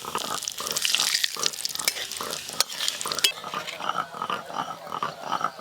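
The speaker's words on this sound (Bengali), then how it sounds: "ওই একই তেলে এবার ফোড়ন দিয়ে দেবো। গোটা জিরে, শুকনো লঙ্কা আর তেজপাতা।" Whole cumin, dried red chillies and bay leaf crackle in hot oil, then get stirred with rhythmic scraping strokes in the pan, close and moderately loud with no talking.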